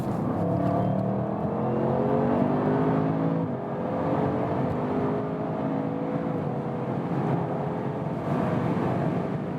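An Audi RS7 Sportback accelerates hard on a German autobahn, its engine note climbing steadily through the gears from inside the car, loud and continuous with a brief dip at a shift.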